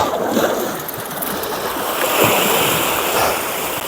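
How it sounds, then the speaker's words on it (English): Sea waves wash around a rocky North Wales shore during tope fishing, a close, rolling surge of water that swells and recedes over a few seconds with splashy texture and no talk. "Just let the waves do their magic and make it a little bit easier for me."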